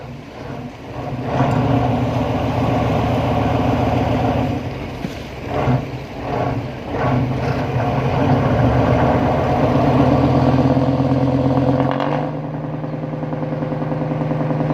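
A loud, steady diesel engine of a large fishing boat under tow drones and rumbles continuously, briefly rising and dipping, then settling to a lower idle near the end.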